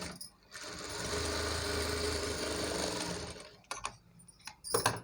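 Sewing machine running steadily as it top-stitches a saree being made into a long frock, a continuous mechanical whir for about three seconds, then stopping with a few light clicks and handling noises.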